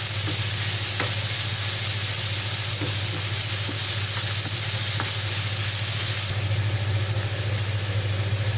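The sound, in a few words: minced pork frying in a pan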